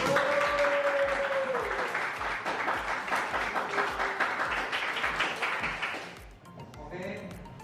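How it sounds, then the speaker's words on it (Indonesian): A group of students or class participants claps together in a long burst of applause that fades out toward the end. "Ya semangat dulu, tepuk tangan yuk."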